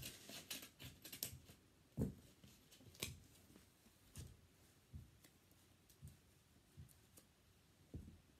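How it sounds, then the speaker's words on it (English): Scissors cut paper while building a leprechaun trap, with a series of crisp snips at uneven intervals, quiet and close, with no talk. "so I need my scissors again"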